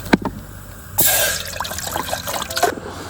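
Water splashes and trickles into a pot set to heat for tea, a sudden rushing pour after a few drips, steady and close, alone without talk.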